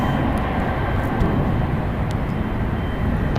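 A 20-year-old Delta Boeing 757-300 departing San Francisco International Airport, a loud, steady broadband jet engine roar, continuous and heavy in low rumble, with no talking.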